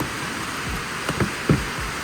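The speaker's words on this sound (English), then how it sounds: "It's raining bad right now, look at this." Steady heavy rain hisses as a continuous wash of noise, with a few louder low thumps and splashes standing out briefly near the middle.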